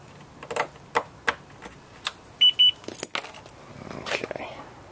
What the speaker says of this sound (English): It's gonna beep like crazy because it's almost out of gas.